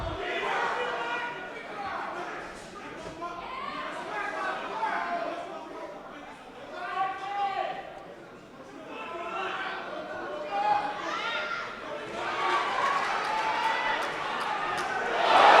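A boxing crowd at the Mark Deluca vs. Salim Larbi fight keeps up a steady roar of shouting and chatter, swelling near the end, with voices mixed in.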